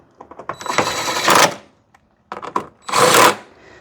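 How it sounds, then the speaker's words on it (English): Quick bursts of ratcheting clicks from a 10mm ratchet snugging headlight assembly nuts on a 2007-2012 Hyundai Santa Fe, two close, loud runs separated by a short pause. "Grab a 10mm, tighten them in there."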